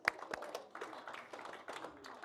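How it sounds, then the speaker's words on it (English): A small audience at a live football event at Boxpark Wembley gives a brief burst of scattered claps, a few sharp near slaps followed by quieter uneven clapping. "Give him a big clap."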